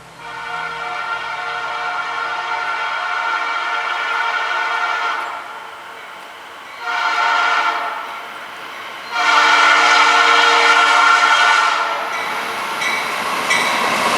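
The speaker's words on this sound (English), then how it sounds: "this train, nicely being led by a H2-9 with a P3 horn," Norfolk Southern freight train 283, led by a BNSF H2-9 locomotive with a P3 horn, passes close by, sounding three long, loud, harmonically rich horn blasts separated by brief gaps over a steady rumble of rolling wheels.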